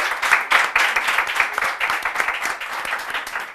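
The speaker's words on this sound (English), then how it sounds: "Yeah, you can clap." An audience at a talk-show taping applauds, giving a steady, dense wash of many hands clapping at once that holds for a few seconds without any voices.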